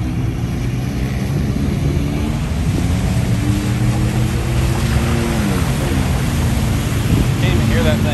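Trucks churning through a mud bog at a truck meet, a loud continuous engine roar with wet spattering that fills the whole stretch, while voices talk faintly underneath.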